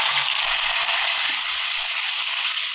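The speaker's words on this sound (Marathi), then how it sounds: "पहिल्यांदा आपण आता कांदा घालून" Chopped onions sizzling in hot oil in a pan, a dense, even, loud crackling hiss that holds steady throughout without talk.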